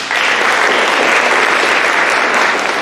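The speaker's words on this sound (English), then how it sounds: "Clap for them, please" A live show audience breaks into loud, dense applause, a steady roar of many hands clapping together that holds strong for about three seconds without any talk.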